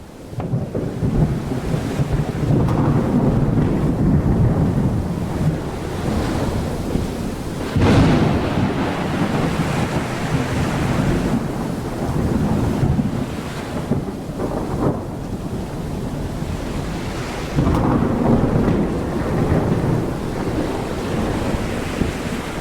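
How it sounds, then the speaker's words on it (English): Thunder rolls over crashing surf and gusting wind during a storm at sea, heard aboard an 18th-century sailboat in a sailing video game; a steady, loud roar continues throughout, with heavier thunder swells at intervals. "Is it just me or is the storm starting to die off a bit?"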